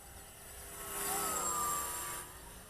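A 46-inch scratchbuilt Depron RC model plane flies past, its thin whining motor buzz rising as it nears overhead and fading again as it moves away, faint and distant overall.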